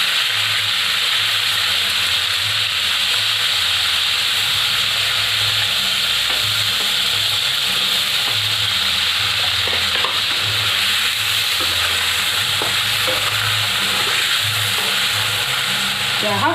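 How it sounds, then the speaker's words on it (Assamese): Paneer frying in a pan over a lowered gas flame, giving a loud, continuous close hiss and sizzle with occasional soft stirring scrapes, while a person talks over it. "এতিয়া আহক অলপ সময় মই পনীৰখিনি ফ্ৰাই কৰি লওঁ।"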